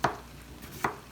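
Knife cutting a halved, peeled onion into super thin slices on a board, two distinct chopping taps about a second apart, close and fairly quiet.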